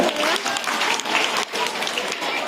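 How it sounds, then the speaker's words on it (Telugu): A school auditorium audience claps for an invited guest at an inauguration program. The dense, steady clapping continues throughout at moderate volume. "క్లాప్స్ పెట్టాలమ్మా, గట్టిగా గట్టిగా వినిపించాలి."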